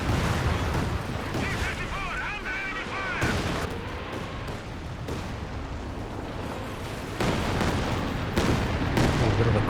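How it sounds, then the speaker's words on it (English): Artillery barrage creeping across a Company of Heroes 2 battlefield: continuous dense rumbling booms and crackling blasts fill the whole stretch, with someone talking over the bombardment throughout. "A bit of a creeping barrage this time round."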